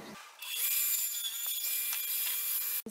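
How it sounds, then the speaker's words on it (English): A radial arm saw cuts through spare wood pieces, its blade spinning up and then biting in with a loud, steady whine and rough cutting rasp lasting a few seconds before shutting off abruptly. "I'm going to cut those out of the extra pieces I have on my radial arm saw"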